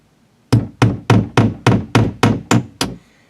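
A hammer drives a nail into a wall to hang a picture, nine sharp, evenly spaced, loud knocks in a steady rhythm after a brief quiet start.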